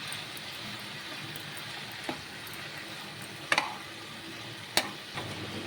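Bottle gourd with turmeric, salt and green chili being stirred in a pan, heard as a soft continuous sizzle with a few sharp clicks and scrapes of the spoon against the pan, with no voices.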